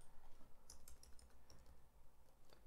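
Keystrokes rattling on a computer keyboard while Java code is typed, an irregular run of quiet, close clicks and taps with no talk.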